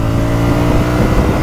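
A 2024 CFMoto 450MT motorcycle engine runs loud and close, holding a steady, thick drone with slight rises in revs throughout.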